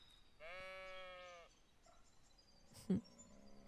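A sheep gives a single wavering bleat in the video game Roadwarden, fairly close and clear over quiet background, followed by a brief thump.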